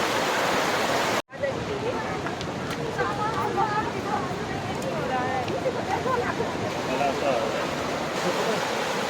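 A waterfall in Rayagada, Odisha, pours as a loud, constant broadband roar heard close by, with a faint babble of visitors' voices mixed in and a momentary dropout near the start.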